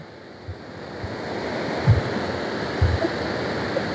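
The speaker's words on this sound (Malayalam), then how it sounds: "വെള്ളം വന്ന് വീണിട്ട്" Water gushes and sprays from a sluice gate at Neyyar Dam into its left bank canal, a steady broadband roar close to the microphone, with a few low thumps from wind or handling.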